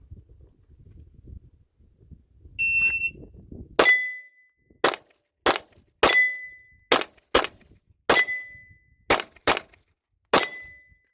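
A Smith & Wesson M&P 2.0 polymer-frame pistol fires about ten sharp, loud gunshots in an irregular sequence, each a crisp crack with a short ringing tail, preceded by faint handling noise.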